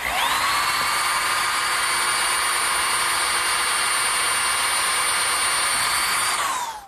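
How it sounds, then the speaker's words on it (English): A power drill bores holes through a metal bracket for a garden swing, a loud, steady high-pitched whine held for nearly seven seconds before spinning down at the end. "I'm going to have to pre-drill some holes through the bracket for the nails"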